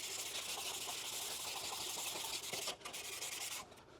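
800-grit sandpaper rubs over an aluminum C10 grill in quick, close, back-and-forth hissing strokes, with a brief break near the end before a last few fainter passes.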